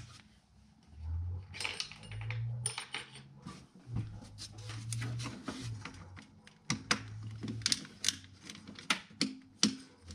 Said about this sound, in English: Get them hand tight, and then we'll tighten them with the Allen wrench once we've got both in.